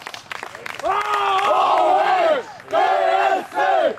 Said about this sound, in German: Fertig machen zum Jubeln.